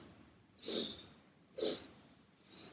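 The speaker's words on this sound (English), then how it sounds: "Breathing in, out. Breathing in." Slow, deep yoga breaths, three audible airy inhalations and exhalations spaced about a second apart, close and soft in a quiet room with no talking.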